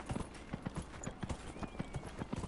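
Horse hooves clip-clop in steady rhythmic beats in the video game Dragon Age Inquisition, moderately close and fairly quiet over a soft ambient bed, with no talking.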